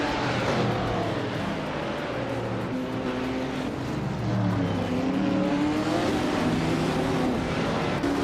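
Race cars launching from the start at Imola in a racing video game, including a 1971 Porsche 917/10, a dense roaring engine drone with rising and falling revving tones, loud and continuous.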